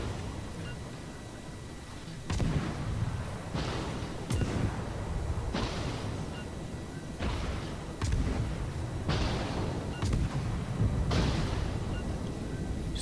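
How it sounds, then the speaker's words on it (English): Heavy warship artillery from the Orlan booms repeatedly in World of Warships, about half a dozen deep salvos arriving every second or two over a continuous low rumble of sea and battle ambience. "So the Orlan's shooting back at us now"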